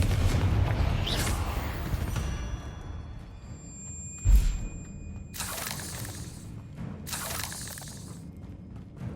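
A fire spell blast in the Hogwarts Legacy video game on PS5: a sharp, loud burst, then two broad crackling whooshes of flame. Steady game ambience plays underneath.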